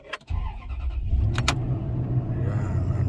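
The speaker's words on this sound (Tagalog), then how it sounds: "I-start na natin ang susi." A Toyota Tundra truck started with the key: a short cranking burst that catches into a steady low idle rumble, close up, with a couple of faint clicks near the start.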